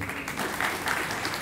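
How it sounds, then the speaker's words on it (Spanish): A crowd at a graduation ceremony claps steadily throughout, a dense, even applause without pause. "señor José Luis Muhammad, quien recibimos con un fuerte aplauso."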